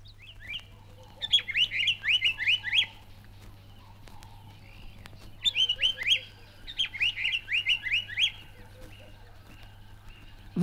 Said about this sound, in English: The Paradise Flycatcher, an active, fast-moving, graceful little bird of considerable beauty, it flits about, calling and taking insects on the wing.